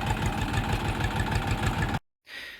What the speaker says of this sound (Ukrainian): загнав трактора